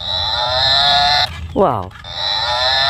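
A toy water buffalo gives a short electronic mooing call amid a steady high-pitched electronic tone, with a person's brief exclamation nearby.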